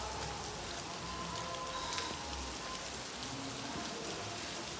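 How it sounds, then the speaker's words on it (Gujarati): Heavy rain pours down steadily, drops pattering densely on surfaces in a constant roar with no speech. "વરસાદ એ ઘણો ચાલુ થઈ ગયો"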